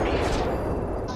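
Gunfire in the mobile shooter Apex Legends Mobile: a brief, loud, dense burst of shots filling the moment.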